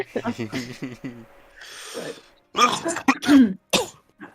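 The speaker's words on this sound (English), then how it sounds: "Coordinated coughing for the win." Several people cough and clear their throats together in a short burst, with talk around it and a brief breathy pause in the middle, close and fairly loud.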